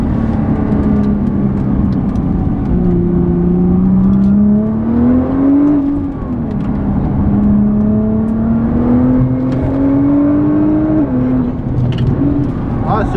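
Nissan GT-R race car engine heard from on board during a passenger ride, a loud steady drone whose pitch climbs repeatedly as it accelerates through the gears, with brief dips between pulls.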